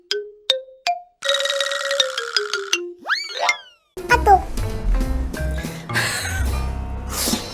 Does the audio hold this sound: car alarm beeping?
no